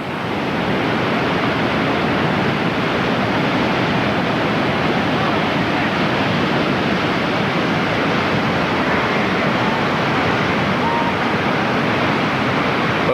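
Whitewater river rapids churning through a wave train as rafts run the course, a loud continuous roar of rushing water filling the whole span without a break.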